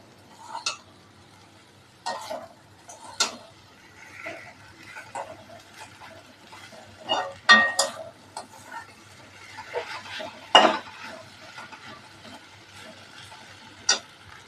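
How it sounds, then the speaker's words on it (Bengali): A spoon stirs red fried dalia made with beetroot in a pan, giving faint, intermittent scrapes and clinks spaced a second or two apart against near silence. "এইবার আমি তাকে নাড়ছি"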